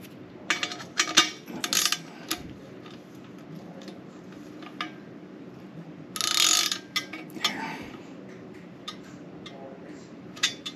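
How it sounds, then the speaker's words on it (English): A wrench tightens a part on a Royal Enfield Continental GT motorcycle engine with short, scattered metallic clicks and ratcheting taps close by. Quiet gaps fall between the clicks, and one longer rattling burst comes midway. "I'm just going to hit it with the wrench here."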